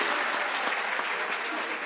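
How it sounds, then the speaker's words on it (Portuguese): A group of women applauding at a couples' gathering, steady continuous clapping filling the whole moment with no voices over it. "As mulheres aplaudiram aí."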